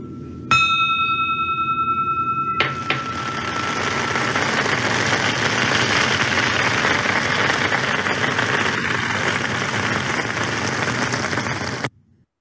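A bell struck to open a Rotary Club meeting in Brasília rings with clear sustained tones for about two seconds near the start, then gives way to a steady, broad wash of noise that fills the rest.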